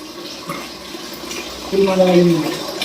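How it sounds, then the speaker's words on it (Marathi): Water runs steadily into a vessel in a home kitchen, rising in pitch and loudness in the second half as the container fills, with a faint voice in the background. "भरू दे थोडंसं पाणी आणखी"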